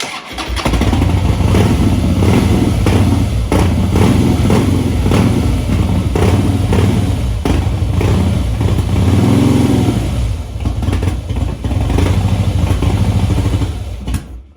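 Steady, loud rumble of a 2011 Harley-Davidson Heritage Softail engine running close by, with uneven throbbing pulses and no talk throughout.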